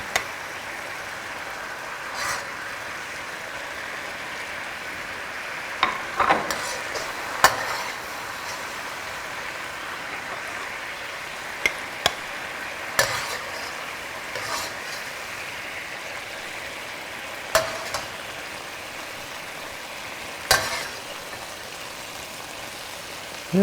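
Wilted greens sizzle in a pan on the heat. A steady, soft hiss runs underneath occasional sharp pops and clicks, fairly quiet and with no talking.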